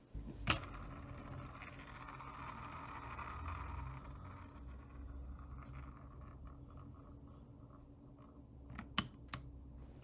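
A Logitech G502 mouse scroll wheel spins freely with a faint, continuous whirring rattle that gradually winds down, ending in a few light clicks.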